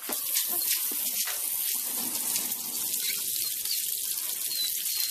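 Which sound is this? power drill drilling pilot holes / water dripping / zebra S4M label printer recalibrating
water dripping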